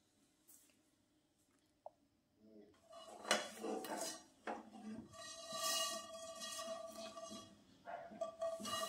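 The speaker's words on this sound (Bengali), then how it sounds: "এবার এটাকে আবারও আগের মতন ঢেকে দেবো" Metal clinks and clatter of a lid and utensils being handled over a pitha pan, starting near silent, then a string of rattling knocks and scrapes with a ringing metallic tone, faint and close.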